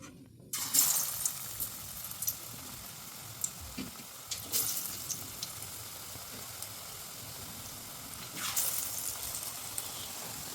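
Chopped green chillies hit hot oil for mirchi bajji, bursting into a bright sizzle that rises and falls as they fry, with occasional sharp crackles and a louder flare near the end.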